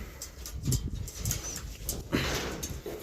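Racing pigeons at a loft in Gerona, Tarlac, are let out to fly. Irregular bursts of flapping wings and soft coos come close by, with outdoor background noise.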